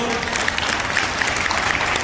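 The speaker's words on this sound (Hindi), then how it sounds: "मैं इनके लिए जोरदार ताली चाहता हूं।" Dense, steady applause from a crowd fills the whole stretch, loud and close, with no pause in the clapping.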